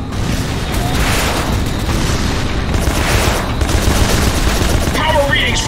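Grenade blast and rapid gunfire in the Rogue Trooper Redux shooter game, loud continuous bursts of shots and booms filling the scene, with a voice calling out over the battle.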